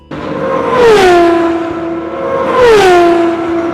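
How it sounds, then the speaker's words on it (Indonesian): Aston Martin V12 race car at the WEC 6 Hours of Fuji 2025, a loud, near engine wailing high and dropping in pitch twice as it revs, shifts and passes, with no talk. "karena Aston Martin sering disorot, otomatis gue bisa lebih sering mendengar suara V12-nya yang merdu"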